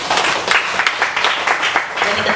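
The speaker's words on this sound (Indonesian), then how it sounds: "Tepuk tangan." Applause from a church congregation during a sermon, dense continuous clapping filling the clip at steady, fairly loud level with irregular bursts.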